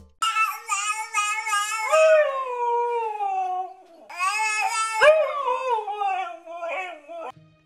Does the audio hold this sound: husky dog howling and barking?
yes